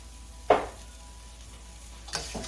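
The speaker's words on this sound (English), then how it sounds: "I'm going to deglaze the pan." Lemon juice is poured into a hot pan holding browned chicken fond for chicken piccata, giving two brief, soft sizzling bursts about a second and a half apart against a quiet background.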